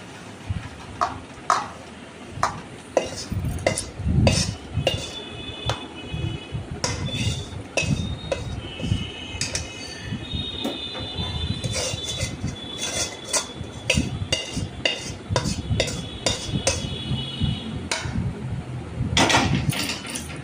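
Hot flour dough for chicken momo being kneaded by hand in a bowl, giving soft squelches and dull slaps along with clinks of utensils against the bowl, close and steady throughout with no talking.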